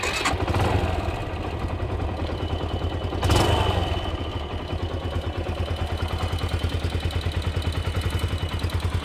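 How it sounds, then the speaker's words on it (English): A Yamaha YBR125 motorcycle engine is cranked twice, with a sharp start near the beginning and another a few seconds later, then settles into a rhythmic, chugging idle heard close up with no talking. "I tried to start the engine."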